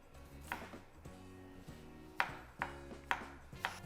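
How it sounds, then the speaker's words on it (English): Knife chopping a large garlic clove on a cutting board, a series of sharp, close taps spaced about half a second apart, occasionally in quick pairs, over a low background hum. "I'm gonna chop that or mince it up very small"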